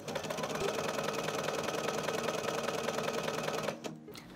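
A sewing machine stitches a blouson seam half an inch from the edge in one continuous, even mechanical whir, close and steady, ending with a short clack as it stops.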